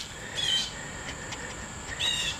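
Short high-pitched chirps from birds outdoors, two brief bursts standing out faintly over a soft steady background hiss.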